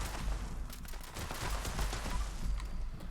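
Submachine gun firing at an angler in Fallout 76, a rapid burst of repeated shots over a dense, steady background, with no voices.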